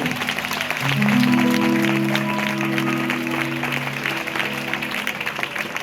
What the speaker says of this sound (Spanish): Un aplauso para la palabra de Dios, por favor.